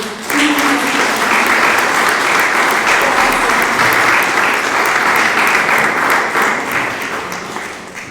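A seated audience at a civic museums event applauds in memory of Renzo Secco, dense steady clapping from many hands, loud and close, holding for about eight seconds before tapering slightly.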